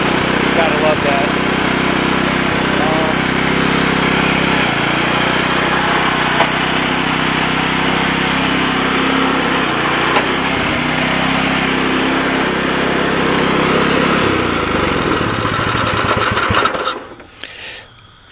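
A Honda snow blower engine running steady and loud for most of the stretch, then cutting off abruptly near the end.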